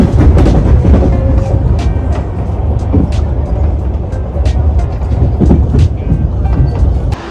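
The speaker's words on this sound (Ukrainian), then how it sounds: "наш потяг поїхав далі на Мукачево" A passenger train pulls away from Svaliava station in Ukraine toward Mukachevo, a loud, close, continuous rumble with rhythmic wheel clicks and rattling.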